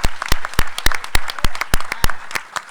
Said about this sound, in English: let's give a round of applause to Chris, who has completed this masterwork